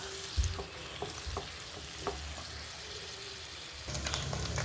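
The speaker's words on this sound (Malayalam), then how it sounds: "നമ്മുടെ കൂണ് നന്നായിട്ട് വഴന്നുന്നുണ്ട്." Mushrooms and chicken sauté in butter in a pan for creamy penne pasta, giving a steady close sizzle with a few soft stirring clicks and scrapes, and no talking.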